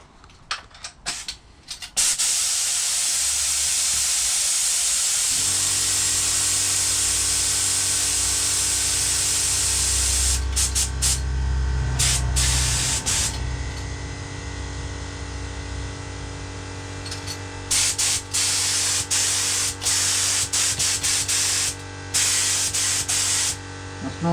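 A compressor-driven spray gun lays down high build primer on Speedline Alessio wheels in long, loud continuous hissing bursts, broken by short pauses and brief trigger releases, over a steady low compressor drone, with no talk.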